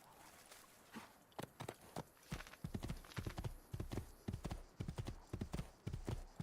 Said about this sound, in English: Okay, here is a horse.